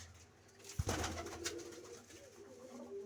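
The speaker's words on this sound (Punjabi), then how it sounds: "ਲਾਲ ਸਰਾ ਕਬੂਤਰ ਜਿਹੜਾ ਆਪਾਂ ਇਹਦੇ ਨਾਲ ਲਾਇਆ ਦੇਖ ਲਓ ਤੁਹਾਡੇ ਸਾਹਮਣੇ ਆ" A pigeon coos softly nearby after a short thump, with faint rustling and quiet background noise.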